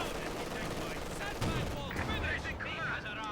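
Heavy gunfire booms from a PaK 40 anti-tank gun in Company of Heroes 2 battle, with repeated cannon blasts and crackling battlefield fire layered in dense succession, a voice commenting underneath.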